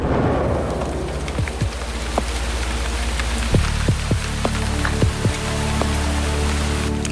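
Steady rain falls in a dense, close wash of patter, with scattered louder individual drops striking a surface throughout.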